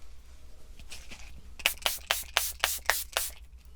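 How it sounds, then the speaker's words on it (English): Makeup setting spray spritzed onto a face, a run of about eight quick close hissing pumps in a steady rhythm after a few softer earlier sprays. "I'm going to spritz you again."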